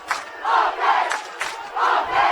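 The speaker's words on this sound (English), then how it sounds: "And now the Dakota Wesleyan crowd chanting defense." Dakota Wesleyan fans at a college football game against Doane chant for their defense in unison, repeated swelling group shouts with short gaps between them, carrying loudly from the stands.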